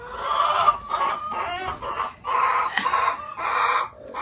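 A broody hen clucks and grumbles in low, throaty bursts close by, with faint chirps from chicks beneath her woven between her calls.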